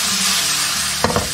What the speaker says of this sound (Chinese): 这个煎生蚝的时候我们要沾一层玉米淀粉哦